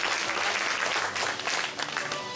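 An audience claps steadily to welcome guests at a school music-contest award ceremony in a township, a dense, even wash of applause that fades slightly toward the end, with no speech over it.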